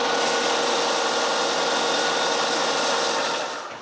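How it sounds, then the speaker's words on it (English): Steady broadband sanding of maple wood pieces, a continuous close abrasive hiss that fades slightly at the end. "After a nice sanding,"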